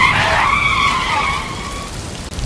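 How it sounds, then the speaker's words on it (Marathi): A car brakes hard with tyres skidding in a Marathi horror story sound effect, a loud sustained screech that sweeps and fades over about two seconds amid a rain-like hiss. "तसे मी गच्च ब्रेक मारली."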